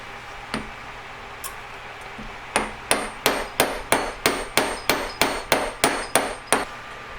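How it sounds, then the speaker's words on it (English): A couple of isolated strikes, then a steady run of about a dozen sharp, ringing hammer blows flattening metal for a leaf ring, close and loud. "I'm just going to hammer it flat now."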